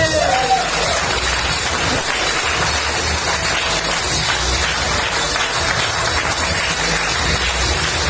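An audience at a business recognition meeting gives a sustained, dense wash of applause for eight seconds, steady and loud, welcoming a director to the stage.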